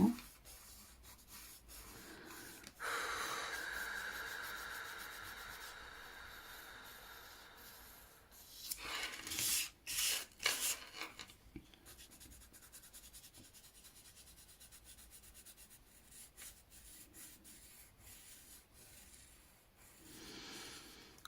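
Colour pencil rubbing across paper in quiet, faint scratchy strokes, with a louder burst of rapid scribbling partway through and softer shading before and after.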